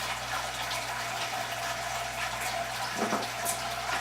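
Wort drains through the perforated bottom of a Brewer's Edge brewer during a wheat beer brew day, a steady close hiss of running liquid that continues throughout over a low hum.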